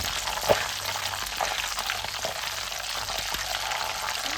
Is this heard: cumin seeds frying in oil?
yes